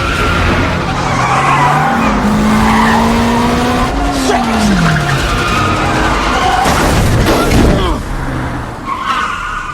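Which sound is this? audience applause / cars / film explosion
cars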